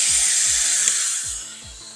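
An air-powered suction brake bleeder hisses loudly and continuously while drawing brake fluid, with a low rhythmic pulsing thump repeating roughly every half second beneath the hiss.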